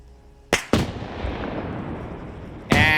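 Sniper rifle shots in a large video game PvP match, two sharp cracks in quick succession followed by a long rolling echo tail, then a third loud report near the end, with no talking.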